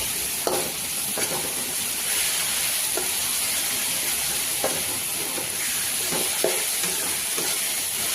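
Food sizzles and fries steadily in a pan while being stirred, with soft scraping strokes recurring every second or so over a continuous close hiss, no voices.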